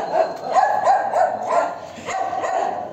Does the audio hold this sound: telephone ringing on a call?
no